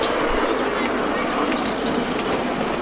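First passenger train of the Piesberger Kleinbahn, a small heritage railway, rolling along with a steady broadband rumble and wheel noise, moderately loud and continuous, with faint bird calls in the background.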